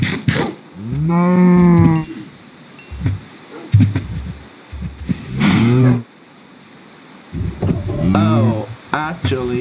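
Cows mooing at feeding time, several long, loud, bellowing calls in close succession, with a voice talking to them in between.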